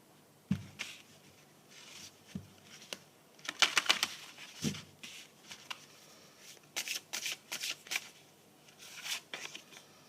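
Tarot cards are shuffled by hand at close range in bursts of crisp riffling clicks and soft rubbing, with short pauses between passes and no talking.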